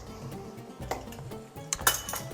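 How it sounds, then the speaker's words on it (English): A cap comes off a brand-new sesame oil bottle in a home kitchen, with small clicks, light plastic and glass clinks and a sharp snap near the end, close and fairly quiet. "it looks like I need to take the cap off"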